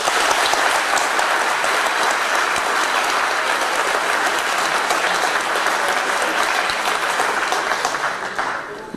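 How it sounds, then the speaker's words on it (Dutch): A studio audience applauds loudly for historian Maarten van Rossum as he is introduced, with dense, sustained clapping that stays steady and then eases off slightly near the end. "mag ik een heel groot applaus voor Maarten van Rossum"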